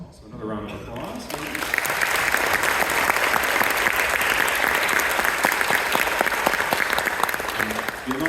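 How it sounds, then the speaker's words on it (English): Audience applause at a high school spring concert: dense, sustained clapping that swells after a brief moment of talk and holds steady and loud to the end. "So another round of applause."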